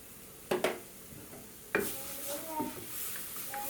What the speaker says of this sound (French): Ensuite, dans la même poêle, je mets mes deux petites gousses d'ail.